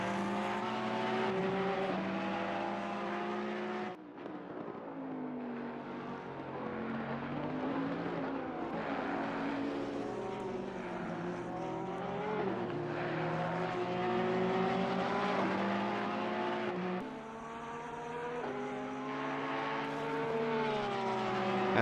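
Sim racing endurance event at Zolder with a Ferrari and a Porsche battling, engines droning and wailing through rising and falling gear changes, steady and fairly loud, with brief dips as revs drop for braking.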